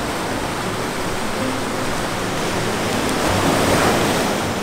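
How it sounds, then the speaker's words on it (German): Ocean surf washes in as a broad, steady rushing roar of breaking waves on a cold day, loud and continuous, with a slight swell in intensity toward the end and no talk. "die Welle hat ihn umgehauen"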